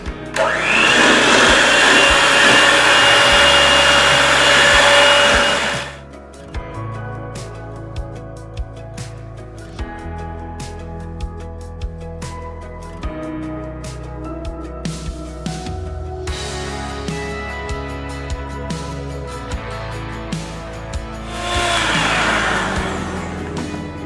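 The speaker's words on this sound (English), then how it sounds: "I'm going to use my handheld electric mixer, and I'm going to whisk this together until we've got some stiff peaks" A handheld electric mixer whips cream to stiff peaks with a loud, close motor whine that runs for several seconds, fades out under background music, then returns near the end.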